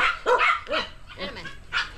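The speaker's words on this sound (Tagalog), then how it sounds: "Ang lalaki naman ng aso niyan." A big dog gives several loud, close barks in uneven bursts, with short pauses between them.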